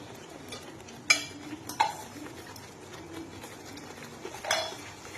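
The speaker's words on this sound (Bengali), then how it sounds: "এটা একটু ভালো করে নাড়বো" A spice masala is stirred in a pan, with a spoon scraping and knocking against the metal in irregular strokes over a faint sizzle, a few louder clinks standing out.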